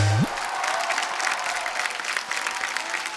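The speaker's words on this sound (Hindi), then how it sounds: "जोरदार तालियां होनी सर चाहिए" Studio audience applause on The Kapil Sharma Show greeting arriving guests, a loud, sustained crowd of clapping over a few seconds after a brief low tone at the start.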